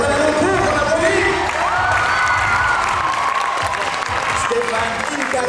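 Loud, steady applause from a concert audience greeting teachers from French schools across Asia-Pacific at Chorasies 2023, with cheering and scattered whoops mixed into the sustained clapping.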